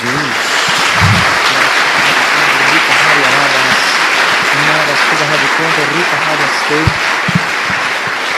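Church congregation applauding together in sustained, loud, dense clapping with a steady roar of palms and voices, and low tonal sounds that suggest music playing underneath throughout.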